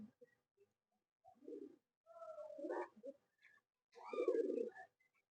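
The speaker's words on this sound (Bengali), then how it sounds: "এই সব পায়রা" Madrasi pigeons coo in a few soft, throaty bursts separated by short pauses, fairly quiet and close by, with no other sounds between the calls.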